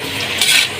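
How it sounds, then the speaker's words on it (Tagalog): Garlic and onion sautéing in hot oil in a pan for pancit bihon, a short loud sizzle with scraping stirring, the hiss swelling briefly midway. "naggisa na po ng bawang at sibuyas"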